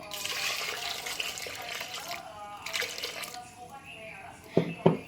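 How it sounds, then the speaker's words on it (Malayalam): Water being poured into a pot of dal and tomato curry on the stove, a soft, close splashing and trickling that fades in and out, ending with a couple of louder sloshes. "നമുക്ക് ഇതിലേക്ക് ആവശ്യത്തിനുള്ള വെള്ളം ഒഴിച്ച് കൊടുക്കാം."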